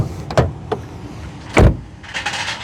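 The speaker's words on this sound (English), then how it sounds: "let's listen to the sound of the closing door" A 2026 Kia Sportage Hybrid X-Line car door shuts with a solid, deep thud after a few lighter clicks and handle sounds, followed by a faint rustle inside the cabin.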